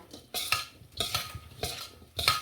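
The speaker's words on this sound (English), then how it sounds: "all we're doing is tossing all this together. This is your filling." Filling for southwest egg rolls being tossed and stirred together in a bowl or pan, several rhythmic scraping, clattering strokes of a utensil at close range with no talking.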